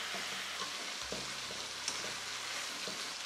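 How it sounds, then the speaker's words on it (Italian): Chicken pieces and potatoes browning in a pan with rosemary and garlic, giving a steady close sizzle and crackle with occasional soft clinks and stirring knocks. "Sto facendo rosolare per bene da tutti i lati."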